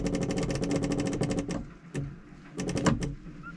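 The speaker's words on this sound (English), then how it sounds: "But hear that? Just pulse, pulse." An electric priming pump pulses diesel fuel into an engine fuel filter with a rapid, steady mechanical clatter that stops, then resumes in a short burst of quick pulses, close and prominent.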